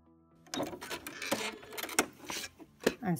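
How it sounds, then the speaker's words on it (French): A sewing machine runs a zigzag overlock stitch along the edge of fabric for inner pockets, giving a close, rapid mechanical clatter with sharp repeated ticks and bursts over about three seconds after a brief quiet start. "Maintenant, nous allons surfiler le tout avec un point zigzag."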